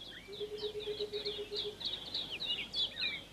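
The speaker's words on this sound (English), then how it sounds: "It's now the end of August, when the rock thrushes start to sing." A string of bright, warbling whistled phrases from rock thrushes singing in the Drakensberg mountains, moderately distant and steady, with a lower sustained tone early on and no voices.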